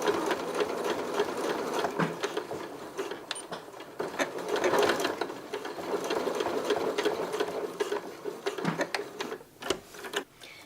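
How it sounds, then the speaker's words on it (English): A sewing machine runs a straight stitch to close up a fabric scrunchie, a steady close-up mechanical whirring and clatter that continues for the whole stretch with small pauses and shifts in speed. "we're just gonna sew this closed"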